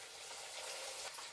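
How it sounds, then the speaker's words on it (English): Inari sushi deep frying in hot oil, a soft continuous hiss and crackle of bubbling, faint and steady with no voices. "I love deep frying things."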